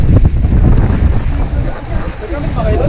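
Strong wind sweeps across open water at a fishing spot outside Metro Manila, a loud continuous roar with gusty swells and a hint of lapping water, no clear talk.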